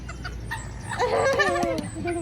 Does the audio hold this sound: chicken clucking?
yes